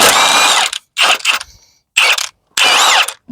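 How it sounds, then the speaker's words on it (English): A ratchet undoing E18 bolts on a Vauxhall Corsa D 1.2 during a water pump replacement: four loud, close bursts of rapid clicking separated by short silences. "now I'm going to undo these 2 E18 bolts"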